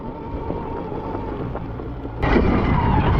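A Stark Varg electric motocross bike ridden off-road, a whirring motor with rough tyre and wind noise that suddenly grows louder and brighter as the throttle opens, recorded close from the rider.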